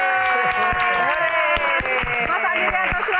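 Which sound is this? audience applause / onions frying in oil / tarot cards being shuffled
audience applause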